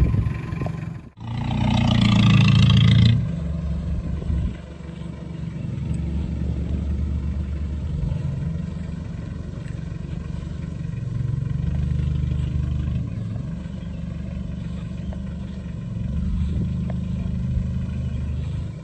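Modified Mitsubishi L300 pickup with an aggressive aftermarket exhaust, one sharp loud rev burst early, then a deep steady rumbling idle with slight swells, close by and alone.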